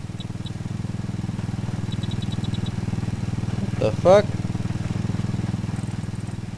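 Steady vehicle engine running in the video game ArmA 3, a constant droning hum that persists throughout, with a brief exclamation from a player rising over it midway.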